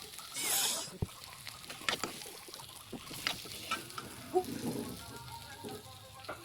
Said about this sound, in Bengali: আলু ভাজতেছি বর্তমান